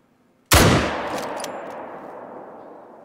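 A single loud rifle shot fired at a caribou in the hunting game Hunter Call of the Wild, a sharp blast followed by a long, fading rumble of echo.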